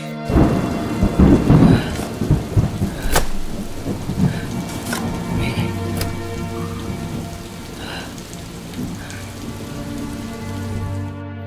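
Heavy rain pours steadily while loud rumbling thunder rolls through, with sharp cracks early on and the storm fading to a softer roar.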